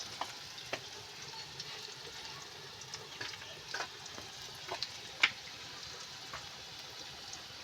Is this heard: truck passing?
no